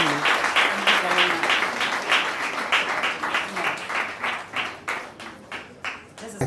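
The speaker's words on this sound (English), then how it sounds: "Round of applause to Joseph Abdoko." Audience applause at a French volunteering day event in Ghana: dense, steady clapping from a crowd that gradually thins into fewer, separate claps toward the end, with faint voices underneath.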